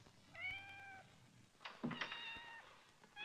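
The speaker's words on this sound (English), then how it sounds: "Still, I hate to hear a cat cry." A cat meows twice in a scene from the 1946 film Cloak and Dagger, a drawn-out plaintive cry followed by a louder, wavering one, with a brief thump in between and another meow starting at the end.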